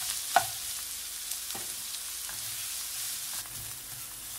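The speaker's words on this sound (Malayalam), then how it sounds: "അരിഞ്ഞു വെച്ചിരിക്കുന്ന ഓണിയൻ ഇട്ട് കൊടുക്കാം. എന്നിട്ട് നന്നായിട്ടൊന്ന് ഇളക്കാം." Chopped onions stirred in a frying pan with a soft, steady sizzle, a few brief spoon scrapes standing out near the start and again partway through.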